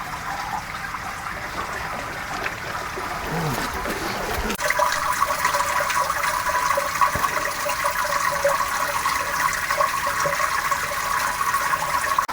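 Water flows through a rebuilt mineralization filter tank after a valve is opened, a steady close rushing trickle that swells partway through and holds at a constant gurgling level.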